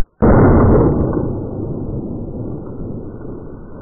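A compressed-air powered RPG fired into a giant backyard ant pile, one sudden loud blast followed by a long rumbling, debris-filled decay.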